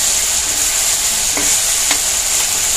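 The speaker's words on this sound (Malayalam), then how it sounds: "ഈ വെളുത്തുള്ളിയുടെ ഈ കളർ മാറുന്നിടം വരെ നമ്മളിട്ട് ഇത് നന്നായിട്ട് പിന്നെ വഴറ്റി എടുക്കാം" Garlic sautéing in hot oil for a red chilli and dates pickle, a constant loud sizzle with a couple of brief spoon scrapes against the pan, no talking.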